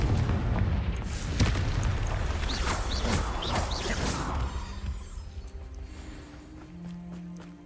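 A Confringo blasting spell goes off in Hogwarts Legacy: a string of loud, booming explosive blasts with sharp cracks through the first few seconds, fading into a lower rumbling hum.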